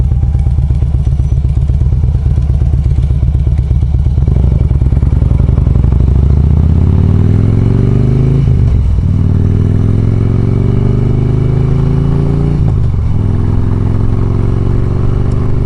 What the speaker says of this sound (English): Little backfire there.